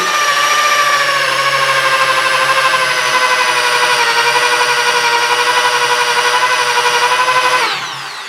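A power drill fitted with a left-handed drill bit whines at a steady, high pitch for several seconds, loud and close, then the motor note drops sharply as it slows near the end.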